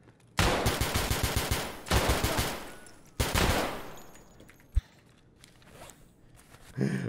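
Bursts of STM automatic gunfire in the video game Escape From Tarkov come in rapid rhythmic strings, loud and close, followed by quieter shuffling and scattered shots.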